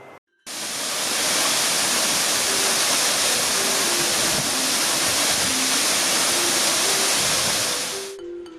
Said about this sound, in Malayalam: ഗ്രാമീണ അന്തരീക്ഷം നിറഞ്ഞു നിൽക്കുന്ന പ്രദേശത്ത് സ്ഥിതി ചെയ്യുന്ന വെള്ളച്ചാട്ടം ആരെയും ആകർഷിക്കുന്ന കാഴ്ച.